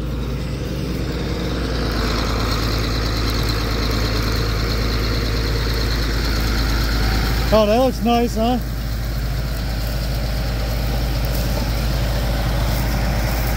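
A John Deere 8640 tractor engine runs steadily at a low, easy idle-like drone while pulling a 7-bottom plow through a field, with a brief spoken comment near the middle.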